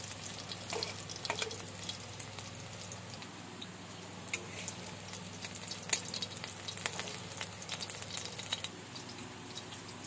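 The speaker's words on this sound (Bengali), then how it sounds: "আমার মাছটা ভাজা হয়ে গেল" Fish pieces fry in hot oil for a curry, giving a soft, continuous crackling sizzle with scattered pops, fairly quiet and with no talk over it.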